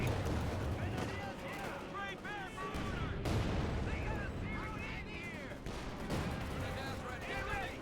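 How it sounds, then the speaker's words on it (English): Grenade and mine explosions in a Company of Heroes 2 multiplayer battle crack and thud over continuous gunfire and battlefield din, with voices sounding through the mix. "Five grenade off there. Mines going off as well."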